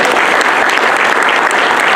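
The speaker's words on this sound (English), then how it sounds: "Everyone, please give Andrew a massive round of applause." An event audience in a room gives speaker Andrew a round of applause, loud and continuous clapping from many hands that stays strong the whole time.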